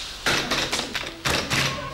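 Someone knocks on a door in a Swedish comedy sketch, giving two loud clusters of hollow thuds separated by a short pause, close by and with no speech over them.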